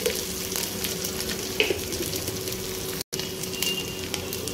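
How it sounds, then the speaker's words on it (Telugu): Ginger garlic paste and turmeric fry in a pan as an eggplant curry is being cooked, giving a steady, close sizzle with occasional stirring clinks and a brief break in the middle. "ఇది మంచిగా ఫ్రై చేసుకోవాలి, పచ్చివాసన పోయే వరకు"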